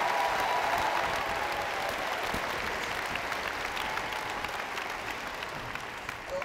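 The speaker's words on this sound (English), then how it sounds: "Give them a huge round of applause." An audience at a school district opening day ceremony gives school counselors a sustained round of applause, a dense wash of clapping that slowly tapers over several seconds.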